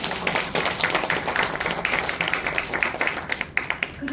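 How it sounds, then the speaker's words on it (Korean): A church congregation claps continuously for several seconds at a testimony revival meeting, a dense crowd of hand claps that grows more distinct and rhythmic toward the end. "우리 하나님께 감사의 박수를 올려드립시다."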